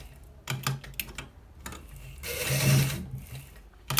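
Domestic sewing machine stitching a double neck collar, several short bursts of rapid mechanical stitching with a longer run in the middle, close and clear with no talk.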